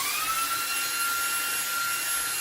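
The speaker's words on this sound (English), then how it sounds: "let's see if we can get most of this off with this back here from Anchor" An Anchor cordless vacuum cleaner cleaning an air vent gives a steady high whirring whine with a faint rising pitch, close and loud throughout with no voices.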